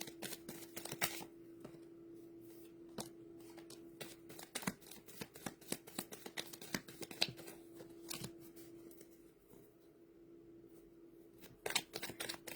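A deck of cards being handled and shuffled up close, with quick papery flicks and snaps in irregular bursts over a low steady hum.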